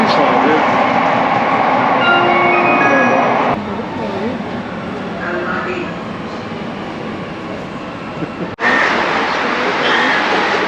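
A Mumbai metro train running, with a loud steady rumble and rail noise from inside the car, a brief drop and sudden bump partway through, and faint voices beneath.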